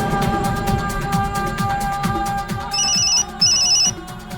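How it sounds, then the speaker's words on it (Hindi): A phone ringtone plays over a busy musical background, with bright repeating electronic tones chiming twice near the end. "मॉम का फोन है।"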